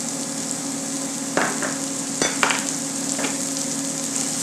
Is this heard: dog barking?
no